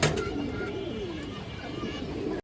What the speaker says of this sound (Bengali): একটা কালো গলা মাদি কবুতর